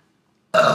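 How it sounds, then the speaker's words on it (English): A single loud, raspy burp from a girl in a burping contest, starting abruptly after silence and held for a moment, close to the mic. "Come on, burp."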